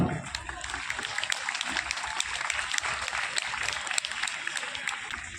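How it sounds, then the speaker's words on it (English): A school audience gives a big round of applause for students honoured for full attendance. The clapping is dense and sustained, filling several seconds at an even level, with a voice faintly present beneath it. "Give them a big round of applause."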